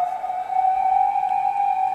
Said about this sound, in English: there's a lot of ambulances going by. Not ambulances, fire engines.